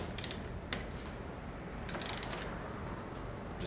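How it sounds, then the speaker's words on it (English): A torque wrench set to 30 foot-pounds tightens a bolt on a bike during a pre-delivery inspection, with a few quick ratcheting clicks over faint background hum in a quiet space. "We're going to grab a torque wrench, set it 30 foot-pounds."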